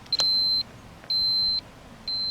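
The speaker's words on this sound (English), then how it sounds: "you can hear that beeping. You're in error, which probably means you're not hooked up properly." A 1byone car jump starter signals an error with three evenly spaced, high, steady electronic beeps, each about half a second long, over a faint background hiss.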